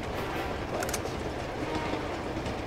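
Train rolling along in the video game Uncharted 2, a steady broadband rumble with rattling carriage noise throughout, continuous and fairly loud with no talk over it.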